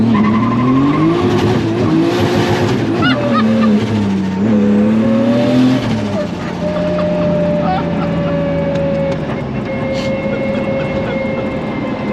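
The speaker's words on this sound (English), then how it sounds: "how has it got such a short exhaust, but it's not loud?" A 600bhp 2JZ-swapped rear-wheel-drive Subaru Impreza with a short exhaust drones loudly from close by while driving, its engine pitch sweeping up and down before settling into a steady whine with some tyre noise.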